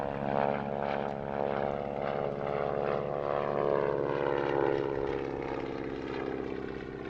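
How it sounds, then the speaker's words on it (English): A locally based propeller aircraft flies a display at the Little Gransden Airshow, its steady droning engine and airscrew note sustained and fairly loud throughout, with no voices. "a rare chance to see this locally based aircraft in the air"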